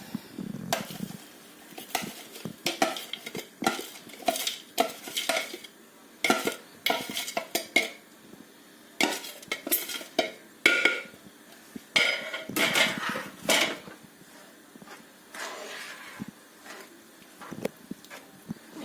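A spoon scrapes and clinks against a metal pan while a sweet mixture of cashews and walnuts is stirred, giving irregular bursts of scraping and knocking with short pauses between them; there is no talk.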